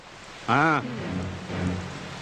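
Steady rain falls through a film scene, a soft continuous hiss heard throughout, with a short voiced sound rising over it near the start and quieter vocal murmurs later.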